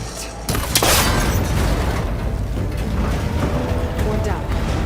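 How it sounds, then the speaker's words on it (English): A cable connector is shot until it breaks in Horizon Forbidden West: a sharp burst hits just after the start, then gives way to a steady, dense rumble of mechanical and environmental noise that holds for the rest of the moment. "That connector's holding the cables together. It should break if I shoot it."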